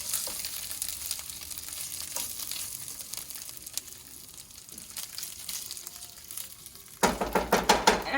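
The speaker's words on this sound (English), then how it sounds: "So we will be sauteing the rice like this till rice becomes translucent." Rice sautés in a pan for Turkish rice pilav, a soft continuous sizzle that runs steadily before a spoon scrapes and stirs in several loud, rhythmic strokes near the end.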